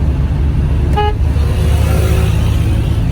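Dense road traffic rumbles steadily through a foggy, cold winter day, with one brief car horn toot cutting through near the middle.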